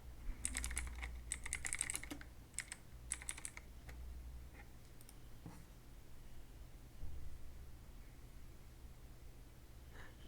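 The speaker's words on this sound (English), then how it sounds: "all you need to do first just type here background apps" Quick bursts of computer keyboard typing, a short flurry of keystrokes in the first few seconds followed by a few scattered taps, close and fairly quiet over a steady low hum.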